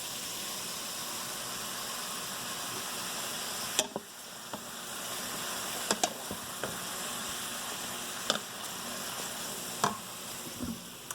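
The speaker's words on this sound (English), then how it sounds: "The onions have begun to sweat, and they've not yet started to soften" Onions sweat in oil in a pot with a steady, soft, even sizzle, while occasional sharp clicks and taps of stirring or utensils against the pot cut in over it; no one speaks.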